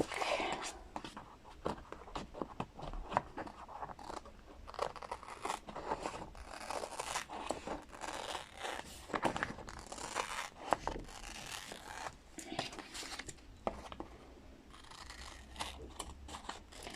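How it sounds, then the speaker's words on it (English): Teflon-coated transfer scissors snip along printed lines, a close, quiet series of irregular crisp cuts and paper rustles repeating throughout. "we're just going to cut on the lines"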